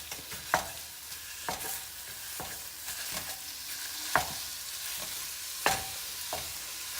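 Pork sausage browns over medium heat while a utensil breaks it up in the pan, giving a soft steady sizzle broken by a few sharp scraping knocks spaced irregularly, close by, with no talking.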